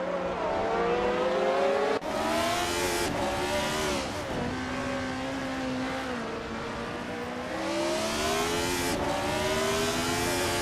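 Racing cars in a video game overtake one another, engines droning loud and continuous with rising and falling pitch sweeps as cars pass, with abrupt shifts.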